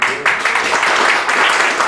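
A church congregation applauds during a sermon, a dense, continuous wash of clapping from many hands filling the room at close range, with a voice mixed in.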